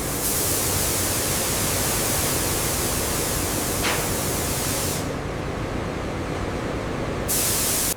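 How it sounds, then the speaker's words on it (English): Abrasive shot blasts a bare steel motorcycle frame inside a blast cabinet, a loud, continuous hissing roar of media that holds steady throughout, with brief shifts in tone as the stream moves. "Shot blasting cleans the frame surface before coating."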